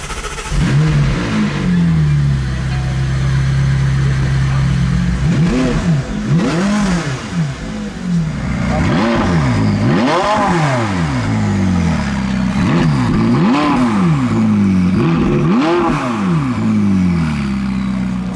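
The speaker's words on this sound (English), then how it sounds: "675 LT then. Start it up." A McLaren 675LT at a busy Cars and Coffee meet fires up and is revved repeatedly, its loud engine note swelling and falling in sharp blips over a steady idle, close by and without talk.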